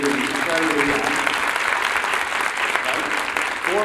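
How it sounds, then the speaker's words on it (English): An audience at a scholars day keynote gives a steady round of applause, dense clapping holding at an even level from start to finish, with a voice heard faintly among it. "How about a nice big round of applause for Iona?"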